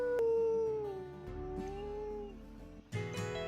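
Wolf howl from the video game WolfQuest, a long sustained wavering call that slowly falls in pitch and fades, followed by a brief burst of other game sounds at the end.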